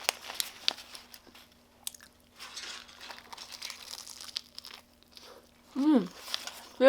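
Close-up bites and chewing of a Shake Shack mushroom burger, with soft crunches and wrapper crinkling, moist mastication sounds, and a few short vocal sounds near the end.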